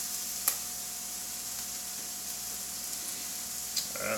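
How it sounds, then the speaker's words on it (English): Quiet, steady sizzle of a sourdough breakfast sandwich frying in a pan, a soft continuous hiss with a couple of brief clicks. "It's all sizzling."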